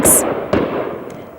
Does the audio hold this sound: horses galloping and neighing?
no